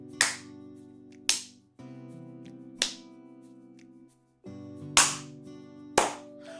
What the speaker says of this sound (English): I didn't realize how difficult it was to high five yourself and get the right